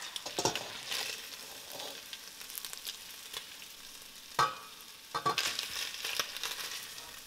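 Chicken pieces frying in oil in a pan for chop suey, a steady sizzle with scraping stirs and a few sharper clatters of the utensil against the pan, close by with no talk.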